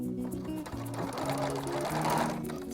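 A sewing machine back-stitches a hair bow, a close, steady mechanical whir with a rapid stitching rhythm that shifts pitch as it slows and speeds up.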